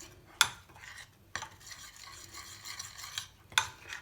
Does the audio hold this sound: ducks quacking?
no